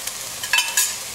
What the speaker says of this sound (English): I'm going to put back the meat